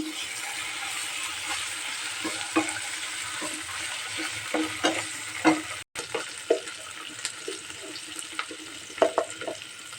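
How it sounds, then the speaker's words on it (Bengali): Onions with cumin paste and garlic paste frying in a pan for an egg curry, a steady hissing sizzle punctuated by irregular stirring scrapes and light taps of a utensil, close and moderately loud. "এখন আমি মশলা দিয়ে দেবো দিয়ে দেবো প্রথম দিয়ে দেবো জিরা বাটা তারপরে দেবো রসুন বাটা দিয়ে একটু নাড়াচাড়া দিয়ে দেবো"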